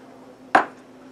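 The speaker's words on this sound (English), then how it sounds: "In my small little saucepan for our simple syrup, it's just 1 part sugar, 1 part water. So I'm going to add 1 cup of sugar" One cup of sugar pours into a small saucepan for simple syrup, giving a single sharp granular rush and clink that fades quickly over a low steady hum, with no talking.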